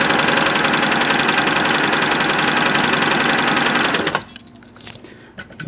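A heavy-duty Singer Touch & Sew 750 sewing machine runs with a loud, steady, rapid mechanical chatter for about four seconds, then stops abruptly, leaving faint handling noises.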